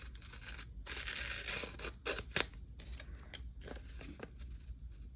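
Scissors cut paper for a junk journal close up, making a series of crisp snips and slicing rustles with short pauses between cuts, at a quiet level.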